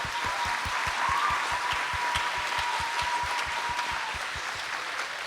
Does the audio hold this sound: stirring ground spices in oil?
no